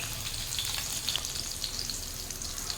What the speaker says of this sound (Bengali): তেল অল্প গরম হয়েছে, এর মধ্যে দিয়ে দেবো কুচি করে রাখা কাঁচা লঙ্কা।